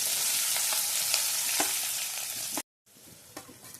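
Onions frying in oil in a pan, a continuous close hiss and crackle with occasional stirring taps, cutting to silence briefly before the sizzle resumes.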